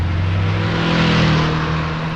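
A motorbike engine starts and hums steadily as it rides away, a continuous loud close motor drone with a slight rise in pitch partway through.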